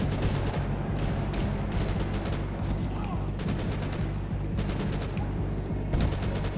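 Bursts of rapid gunfire from Max Payne 3, including a G6 Commando rifle, crackle in repeated volleys over a steady low background hum, with a voice speaking faintly underneath.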